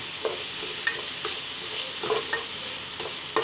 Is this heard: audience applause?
no